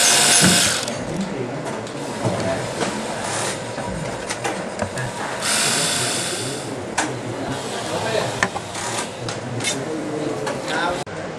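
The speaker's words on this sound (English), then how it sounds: "unscrew the 4 screws that secure the bottom plate on here" Screws being unscrewed from the bottom plate of an ARK-3000 series computer, giving steady small ratcheting, clicking mechanical sounds close by, with a few sharper clicks and a brief hiss-like burst midway.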